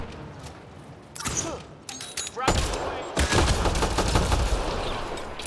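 Gunfire crackles in Mass Effect Andromeda, with sharp shots and bursts of rapid automatic fire joined by mechanical clicks and whirs during combat, while a voice speaks briefly.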